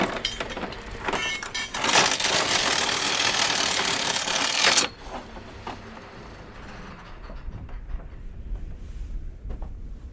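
A small boat's engine off the South Uist coast runs as a steady, fairly loud mechanical drone, then cuts out abruptly about halfway through, leaving quieter ambient sound of water and air in a bay.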